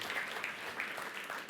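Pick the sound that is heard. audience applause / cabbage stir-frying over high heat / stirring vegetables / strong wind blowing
audience applause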